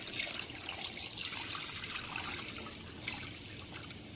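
Water poured into a bowl holding vinegar for a crispy chicken burger recipe, a soft continuous trickling splash that wavers slightly, quiet and nearby.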